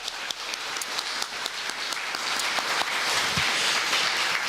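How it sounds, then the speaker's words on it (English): A conference audience breaks into sustained applause, with crisp individual claps at first that build into a dense, even wash of clapping, with no talk over it. "Please give them a quick round of applause."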